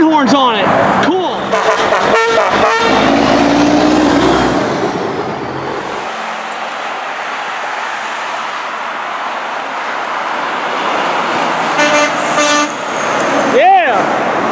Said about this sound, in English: had train horns on it